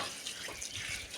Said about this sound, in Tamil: நல்லா தண்ணியில் போட்டு நல்லா கையெல்லாம் நல்லா இன்னொரு கலஞ்சி கழுவிப்போம்